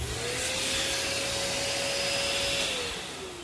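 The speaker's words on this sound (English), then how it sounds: "we'll be sure to clean that up real quick with our lovely bench vacuum" Bench vacuum cleaning debris out of the dust cup of a Bissell PowerForce Compact vacuum: a loud, steady whine close by that runs for several seconds before beginning to wind down.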